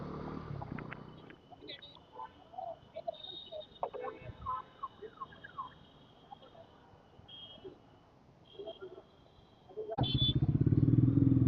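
Bajaj Pulsar NS400Z motorcycle riding through regular traffic on a mileage test: steady engine drone with shifting revs and passing traffic, then a loud, close surge of engine roar at the end.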